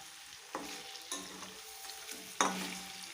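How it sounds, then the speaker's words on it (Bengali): Cauliflower pakoras fry in oil over medium heat while being turned. A continuous close sizzle is punctuated by several sharp clinks and scrapes as the pieces are flipped. "আরও বেশ কিছুক্ষণ আমি উল্টে পাল্টে মিডিয়াম আঁচে ভেজে"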